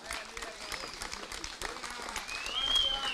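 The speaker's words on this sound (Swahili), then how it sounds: "wapigieni makofi," A crowd at a DCP political party rally in Kenya claps in sustained applause, a dense steady patter swelling slightly toward the end.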